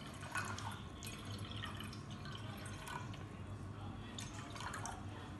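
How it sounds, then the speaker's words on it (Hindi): One cup of water is poured into a pan to make strawberry jelly, a soft, steady trickle and splash that runs the whole time, close but fairly quiet. "ये मैंने 1 कप पानी डाला है।"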